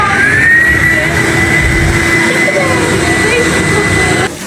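An Ihlas Aura Clean Max cleaning robot vacuum running at maximum power, a loud, steady motor whine with a high tone and rumbling airflow that holds unchanged, then cuts off abruptly near the end.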